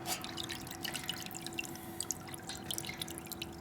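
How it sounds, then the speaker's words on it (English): Water splashes and drips from a 30-litre DSA800SE-GL2 ultrasonic cleaner tank. Quick, irregular drips and small splashes land close by at a modest level over a faint steady hum. "throwing water around, splashing water around"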